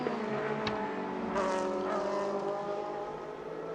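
GT3 race cars in the Le Mans Cup at Spa roar through the high-speed Blanchimont corner, a continuous distant engine drone with a brief passing swell, no voices.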